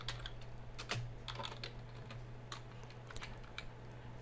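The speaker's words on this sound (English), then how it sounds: "So I'm gonna type a command to create a new database." Someone types a SQL command on a computer keyboard: soft, irregular key clicks and taps at close range over a low steady hum, fairly quiet, with no voices.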